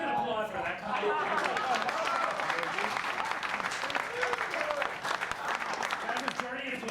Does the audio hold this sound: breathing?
no